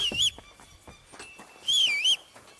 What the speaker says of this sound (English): Stop that whistling.